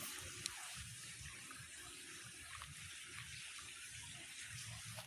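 Steady rushing water drains continuously from a concrete fish pond through a central drain, with a constant broadband wash and low gurgling underneath.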